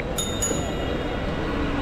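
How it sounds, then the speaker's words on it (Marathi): A Karjat-bound local train sits at a crowded platform on the Badlapur line, giving off a steady mechanical hum with two brief metallic clinks near the start, and faint talk beneath. "कर्जत ट्रेन आपली आलेली आहे इथे"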